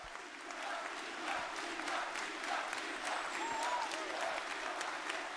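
Steady audience applause, dense and continuous clapping from a crowd with faint voices mixed in, sustained throughout at moderate volume.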